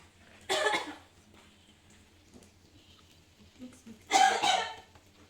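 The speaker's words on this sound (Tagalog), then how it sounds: "Narinig yung ubo ko." Two separate coughs ring out a few seconds apart, each a short harsh burst, the second one louder, over a quiet background with a low hum.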